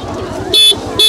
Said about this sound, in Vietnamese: xe máy đi vào đây là chặt hết đường luôn này